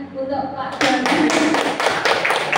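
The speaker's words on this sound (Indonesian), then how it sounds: "Sebelum melanjutkan materi selanjutnya, tepuk tangan untuk Pak Doni." An audience claps at a teacher-training dissemination session in a classroom, a dense burst of applause that begins partway through and carries on steadily, with a voice speaking at the start.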